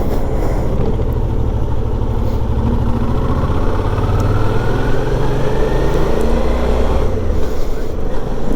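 Motorcycle engine running steadily in third gear while riding on a road, a continuous loud drone with rising and falling pitch as the throttle changes, with no talk.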